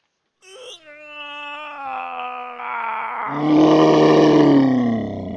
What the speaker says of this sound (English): A guttural, animalistic roar, so strong and powerful